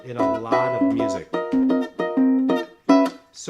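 An E6/9 chord strummed on a ukulele, rung out about six times in an uneven rhythm, each strum bright and close with a short ringing decay.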